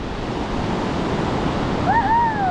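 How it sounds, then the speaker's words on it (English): Ocean waves surge in a loud, steady wash of surf and wind noise off the coast of Morocco, with a brief rising whistle-like cry near the end. "Watch it, that big wave."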